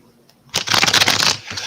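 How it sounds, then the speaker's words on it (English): A deck of tarot cards is riffled in one quick shuffle lasting about a second, a dense close-up flutter that ends with a soft tap. "Do one more shuffle here."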